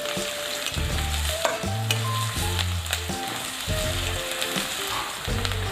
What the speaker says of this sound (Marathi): कांदा छान परतून घ्यायचा आहे 2 मिनिटे।